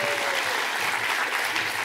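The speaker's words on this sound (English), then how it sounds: "And I think that deserves a round of applause." Audience applause at a mathematics lecture on counting and matching: dense, steady clapping from a crowd, sustained evenly and fairly loud for the whole stretch.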